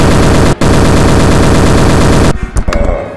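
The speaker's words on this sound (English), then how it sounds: "I'm gonna shoot this guy" Sustained rapid automatic fire from a new gun in the VR game BONELAB, very loud and dense, broken by one brief gap, then cutting off into a few scattered trailing shots.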